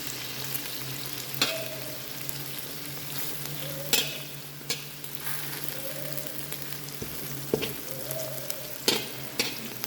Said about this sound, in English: I've pushed the sausages aside and I'm frying them in the middle.